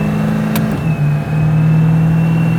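The 1600 hp twin-turbo Buick Grand National custom engine pulls hard under throttle, drops briefly through a gear change, then resumes a strong, steady, loud drone close to the listener.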